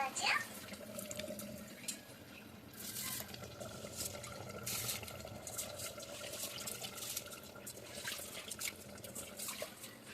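Soaked rice tipped into a pot of boiling water on a small stove fire for biryani, heard as a couple of brief splashing pours over a steady bubbling, watery background with faint voices nearby.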